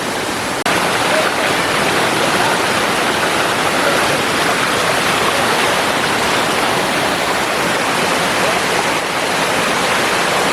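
A small waterfall tumbles over rocks on a large fish farm, a loud, unbroken close-up roar of rushing water with no voices.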